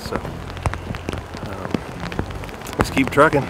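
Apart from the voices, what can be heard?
rain falling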